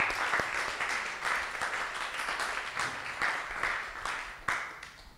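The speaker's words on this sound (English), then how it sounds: "A round of applause for Peter." Applause rises from a small audience at a members' meetup for a speaker, a moderately loud, uneven clatter of hands with a few sharp individual claps standing out, the clapping rising and ebbing in waves without talk.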